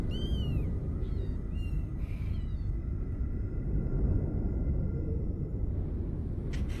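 A kitten meows a few times in reply, high wavering cries at the start and around two seconds, over a constant low rumbling background; the cries sound like a sound effect or a voice imitating them.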